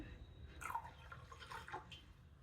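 Water trickles and drips into a plastic packet while buttermilk is made on the go: a faint, steady light pouring with a few small splashes, close by and alone.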